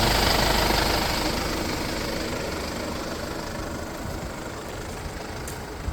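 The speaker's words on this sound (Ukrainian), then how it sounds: "Двигунчик працює чисто, ідеально" A 2019 Mercedes-Benz Sprinter van's diesel engine idles steadily close by, a dense rough clatter that holds even throughout with no voices.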